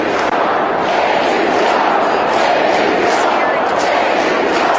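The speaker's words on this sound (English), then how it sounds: "We hear the crowd chanting there." Crowd at a Trump MAGA rally in Detroit, Michigan, chanting as one dense, steady roar of many voices that holds loud and unbroken throughout.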